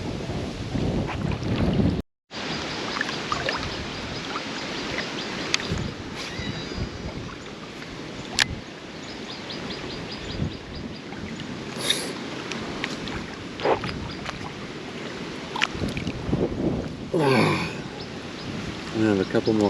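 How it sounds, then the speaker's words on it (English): Strong wind roars on a Hong Kong fishing outing, blasting the microphone in a constant rough rush with sharper gusts, while someone talks over it. "it's freaking windy"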